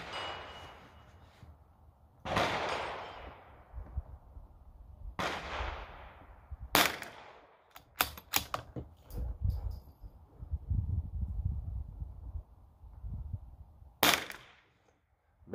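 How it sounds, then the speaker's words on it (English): Shots from a CZ 457 rimfire rifle firing standard velocity ammunition at an outdoor range: sharp, loud cracks spaced a few seconds apart, some in quicker pairs, with rustle between. "Last two shots from the CZ on our little bonus group."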